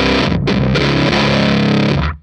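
Electric guitar played through a Black Arts Toneworks Priestess pedal: a loud, thick distorted chord rings out alone for about two seconds with one brief dip and then stops.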